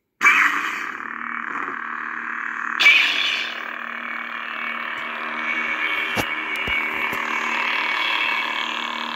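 Two Saberforge Crimson lightsabers running together with their sound fonts, a steady buzzing electronic hum that ignites abruptly, brightens with a swell, then continues with a few sharp clicks, close and loud with no talking.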